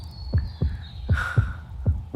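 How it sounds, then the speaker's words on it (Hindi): A fast heartbeat sound effect in a film scene thumps in steady, evenly spaced beats over a low hum, with a brief airy swell partway through. "तेरी धड़कन इतनी तेज क्यों चल रही है?"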